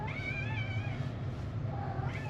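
A house cat meows in drawn-out, wavering cries, close and fairly clear, with a second shorter meow near the end over a low steady background hum.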